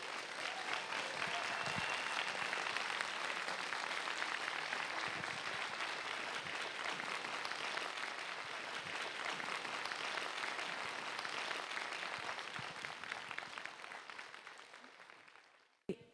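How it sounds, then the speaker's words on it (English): An audience at a film screening and talk gives sustained applause, steady dense clapping across the room that holds for a long stretch before fading out toward the end. "let's give Emad a round of applause"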